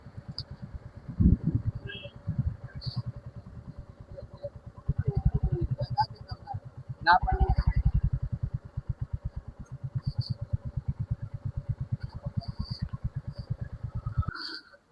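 A motorcycle engine idles and putters with a fast, uneven beat while the bike is being parked, fairly close, with a few clatters and revs and then cutting off near the end.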